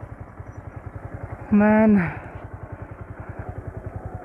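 Yamaha R15 V2 sport motorcycle ridden along Marine Drive in Lucknow, its engine a close, even pulsing thrum throughout, with a short loud tonal burst from a rider's voice midway.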